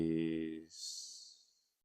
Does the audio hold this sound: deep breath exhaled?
yes